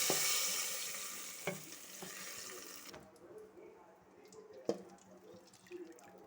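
Cumin, chana dal, urad dal, curry leaves, onion and garlic tempering in hot oil sizzle in a pan, loud at first then fading, with occasional stirring clinks and drips.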